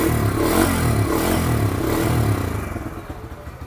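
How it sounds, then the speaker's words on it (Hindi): A Bajaj Freedom 125 CNG motorcycle, switched over to petrol, holds a steady, loud exhaust note with a deep throbbing idle rhythm, nearby and alone. It then eases off and fades toward the end. "पेट्रोल पे कन्वर्ट हो गया एंड पेट्रोल का कुछ ऐसा एग्जॉस्ट नोट है।"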